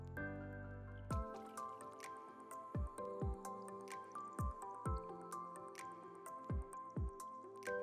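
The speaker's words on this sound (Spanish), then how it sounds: "Ponemos la masa en un vaso y así será más fácil de ponerla." Thick muffin batter poured from a glass into paper cases lands in a string of soft, wet plops and drips, close and fairly quiet, after a brief steady tone at the start.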